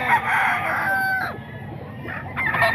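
A rooster crows loudly and close among chickens kept for sale, with hens clucking around it.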